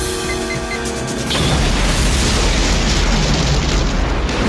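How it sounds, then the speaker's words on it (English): A helicopter blows up in an action-film scene, a sudden loud blast about a second in that swells into a sustained, roaring rumble of fire and debris lasting to the end. "and then the helicopter blew up"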